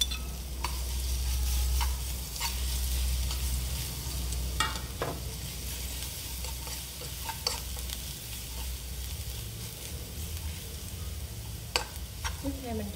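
Minced garlic fries to golden in a hot pan, a continuous crackling sizzle under a low hum, with sharp clicks and scrapes of stirring scattered throughout.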